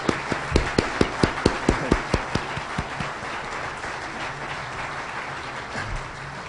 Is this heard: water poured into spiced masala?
no